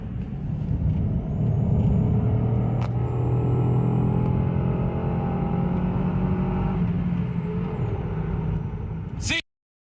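A car engine running roughly at close range, a steady heavy rumble that holds for about nine seconds and then cuts off abruptly, with a faint hiss and click near the end.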